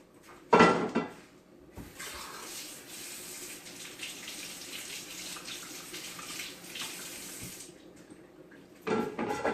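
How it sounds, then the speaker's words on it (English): Cabbage is rinsed in a bowl under a running kitchen sink tap, a steady close water rush lasting most of the time, framed by brief clunks of handling at the start and end. "let me take this in the bowl over here to the sink. We're gonna rinse it a little bit"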